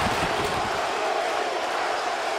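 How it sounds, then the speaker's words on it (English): A hockey arena crowd at an OHL game between the Erie Otters and Oshawa Generals roars after a glove save, a dense, sustained wash of cheering that holds steady and fills the space without any break. "Crowd is fired up."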